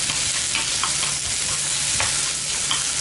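Onions and mushrooms stir-fried in a pan for a carbonara tteokbokki, a steady close sizzle with scraping stir strokes throughout, no talking.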